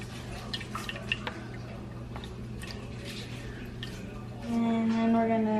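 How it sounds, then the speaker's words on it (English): Fat draining from cooked ground beef in a pan, with soft drips and light clicks over a steady hum, then a louder rush of pouring liquid near the end. "we're just draining all of the fat"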